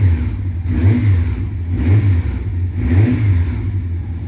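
A warmed-up Honda CB700SC Nighthawk motorcycle engine runs up close, its loud, throaty idle rising and falling in about four rhythmic blips of throttle.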